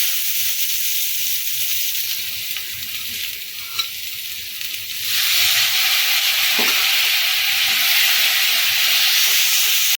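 Spice paste with salt and a splash of water fries in a pan for masala bitter gourd, a loud steady sizzle that turns brighter and hissier midway, with occasional stirring scrapes close by.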